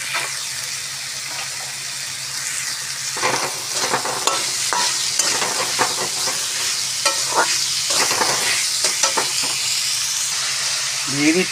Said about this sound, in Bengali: আর এর সঙ্গে দিয়ে দেবো কেটে রাখা গাজরগুলো। ভাজাও হয়ে যাবে